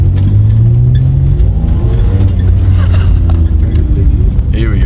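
A $1000 4x4 revs hard while driving off-road, its engine droning loud and continuous throughout with rising and falling pitch, close to the microphone.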